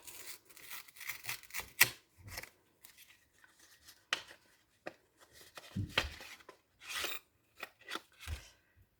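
Parcel packaging being opened by hand, a series of close crinkling, tearing and rustling bursts of paper and plastic with short pauses between them, no talking.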